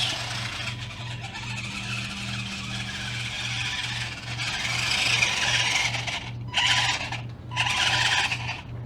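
An RC crawler drives along nearby, its small motor giving a steady whine with a regular low pulsing hum, alongside scraping tire and ground noise that swells and breaks off in short gaps, with no talk.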